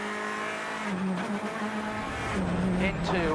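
Craig Breen's rally car on a gravel stage of the Acropolis Rally, the engine revving hard with rising and falling gear-change pitch, passing close, while a commentator talks over it.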